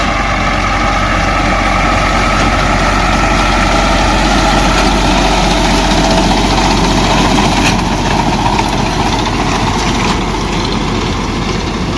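A tractor engine runs during a wheat harvest in Dadyal, Azad Kashmir, a loud steady low rumble with constant vibration and no voices.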